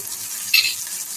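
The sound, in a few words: sautéing curry in oil in a frying pan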